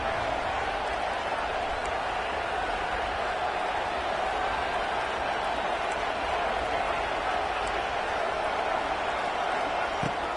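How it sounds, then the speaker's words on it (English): A packed stadium crowd roars continuously at a Florida State versus Texas Tech college football game on a Texas Tech third down, a dense, steady wall of cheering noise with no clear breaks. "The crowd electric, trying to help Tech on this third down."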